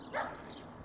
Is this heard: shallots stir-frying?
no